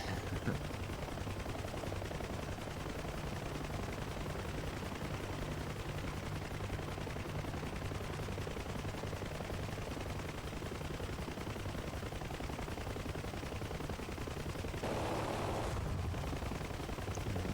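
Sustained rapid gunfire in War Thunder, a dense, continuous machine-gun chatter running for the whole stretch at moderate volume, with a louder brief burst near the end.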